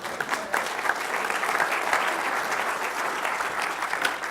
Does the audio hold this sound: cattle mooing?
no